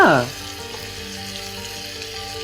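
Palakkad-style chicken masala with onions frying in a pan, a steady close sizzle and crackle running throughout under a brief higher tone at the start, no speech.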